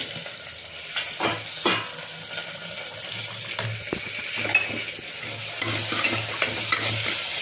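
Tomatoes and fried onions sizzle and crackle steadily in hot oil, with occasional scrapes and clinks of a spoon stirring the pan.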